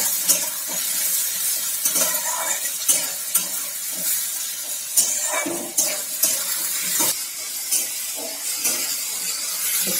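Cut potatoes frying with onions in a pan, with a continuous loud sizzle and repeated scraping strokes of a stirring utensil.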